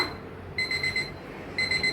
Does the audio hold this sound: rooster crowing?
no